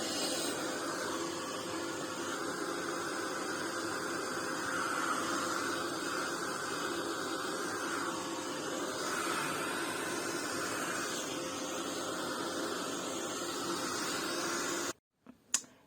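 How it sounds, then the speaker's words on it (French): Heat gun blowing hot air over a paper craft project, a steady soft whooshing hiss running for about fifteen seconds before switching off, followed by a couple of faint handling knocks. "Un petit coup de séchoir."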